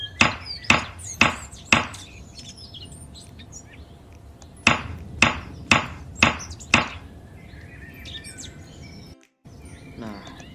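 Hammer blows drive a chisel into timber while cutting a lengthwise wood joint: two close, loud runs of about five sharp, evenly spaced strikes each, split by a pause and followed by soft handling noises.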